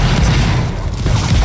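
Musket volley fire in a Napoleonic Wars battle game, Prussian line infantry shooting, a loud dense rolling boom of massed shots that fills the short stretch with no pause.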